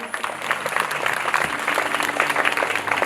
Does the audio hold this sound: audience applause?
yes